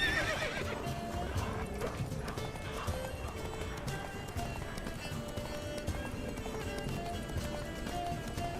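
Hooves clip-clop in a steady galloping rhythm in a video game, with a horse whinnying over a dense, busy background; a voice briefly speaks in between.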